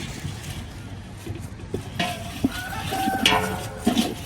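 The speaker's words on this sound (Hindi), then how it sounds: "ये अदनान साहब कुक कर रहे हैं चीज़ों को।" Someone stirs a pot of winter goat feed made with licorice root and turmeric, giving a soft, continuous scraping and bubbling. The sound sits under a noisy background with occasional clinks.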